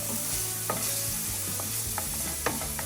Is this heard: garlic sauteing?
yes